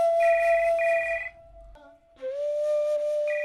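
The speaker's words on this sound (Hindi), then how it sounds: "तुम्हारा फोन बज रहा है।" A mobile phone ringtone plays indoors in a TV drama scene: a steady electronic melody of sustained tones with a short dip in the middle, close and clear.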